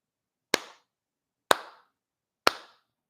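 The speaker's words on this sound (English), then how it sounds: "Clap." Three sharp hand claps ring out alone at roughly one-second intervals, each crisp and close with a short decaying tail against silence.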